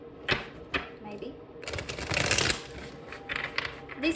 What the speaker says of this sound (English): Hold on, I better shuffle.